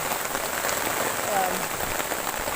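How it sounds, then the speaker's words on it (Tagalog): Dense, steady patter of heavy rain drumming on a surface at a farm in the Philippines, constant hiss with faint occasional talk beneath it. "pero malakas talaga yung ulan"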